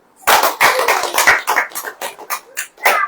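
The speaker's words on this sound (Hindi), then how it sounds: "ताली बजाइए।" An audience at a Hindi church sermon breaks into a short burst of hand clapping, dense and close, fading out over a few seconds.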